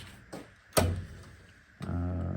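A socket drawer on a Homak Carlyle Platinum 72-inch toolbox slides open and shut in a workshop, giving short metallic clunks and a rolling slide, close and fairly loud with no talking.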